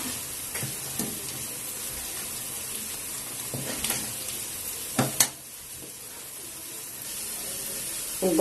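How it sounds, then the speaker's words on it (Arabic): Onion sizzling in a frying pan for a bean-and-herb bessara dish, a steady soft hiss throughout with a few brief clinks and stirring knocks near the end. "البصله معانا ابتدت تحمر، هنحط لها فصين توم نحمرهم مع بعض"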